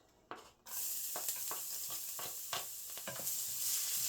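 Pork marinated in soy sauce, pepper, salt and garlic powder for Filipino menudo hits a hot pan after a brief quiet moment, then sizzles loudly and continuously, with intermittent stirring scrapes.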